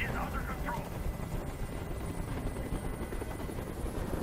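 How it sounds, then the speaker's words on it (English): In the video game Detroit: Become Human, a helicopter hovers overhead with a loud, continuous rotor thrum and steady chopping that stays constant throughout, while a voice speaks under the noise. "Tell that helicopter to get out of here."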